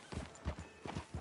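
Horse hooves clip-clop in a steady walking rhythm in the Western video game Red Dead Redemption 2, fairly quiet and close, with no talk over them.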